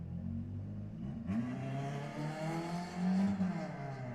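A car engine revving up, a low droning tone that rises and swells, fairly loud and close, with no one talking over it.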